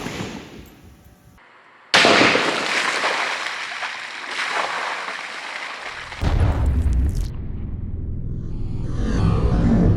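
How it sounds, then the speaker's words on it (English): A sharp crack of a 300 Hammer rifle firing a Lehigh Defense 125 grain Controlled Chaos bullet into a water trough from 100 yards at about two seconds cuts through a quiet outdoor scene, followed by a sustained rushing noise and a louder rumbling burst later. "we're going to get ready to go take that shot now from 100 yards from the 300 hammer"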